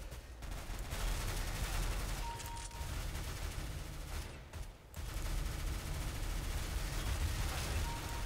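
Dense gunfire in Counter-Strike: Global Offensive, rapid overlapping automatic bursts and shots crackling almost without pause, loud, with brief lulls between exchanges.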